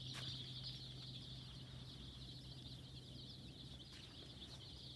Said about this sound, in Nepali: तपाईं देख्दै हुनुहुन्छ यो 4 दिनको चल्ला हो।